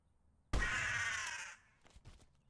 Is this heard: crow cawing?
yes